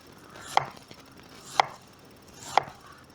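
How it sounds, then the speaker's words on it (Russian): Three crisp knife chops land about once a second as cabbage is shredded on a board for chicken shawarma, each a sharp close strike with quiet pauses between. "Капусту стараемся шинковать мелко-мелко, чтобы было вкуснее и удобнее ее кушать."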